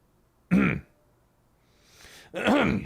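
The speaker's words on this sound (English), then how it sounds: "Sorry, I'm coughing." A person at home clears their throat twice, two short, rough bursts close to the microphone about two seconds apart, the second one heavier and almost a cough, with quiet in between.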